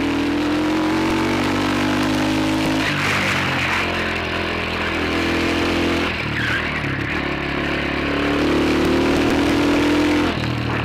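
A Supermoto motorcycle ridden on the road, its engine droning loud and steady with rising and falling revs through gear changes.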